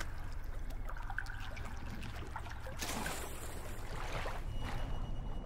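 Water sloshing and trickling in The Forest as a player jumps into a pool, a steady close wash of splashes with a louder surge partway through.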